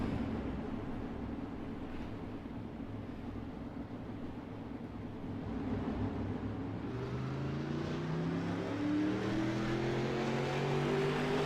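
Race cars heading onto the track for hot laps, engines rumbling steadily before rising into a loud, climbing rev as they accelerate, with several overlapping engine notes near and far and no talking.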